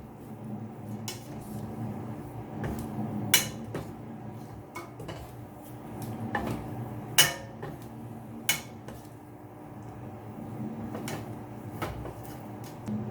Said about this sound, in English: stirring it all up.